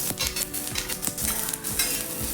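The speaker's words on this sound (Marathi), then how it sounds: "तेल टाकायचं थोडंसं एक चमच्यावर आणि पूर्ण छान असं भाजून घ्यायचे आहेत हलक्या हाताने मिरच्या आपण भाजून घेऊया" Green chillies roast in a little oil in a pan, a steady close sizzle broken by scraping stir strokes and light metal clinks.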